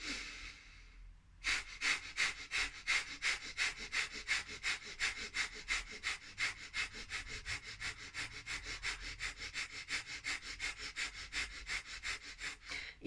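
Breath of Fire yoga breathing, with arms raised at a 60-degree angle: a long run of fast, even, forceful nasal breaths pumping in a steady rhythm close to the mic after a brief quiet start.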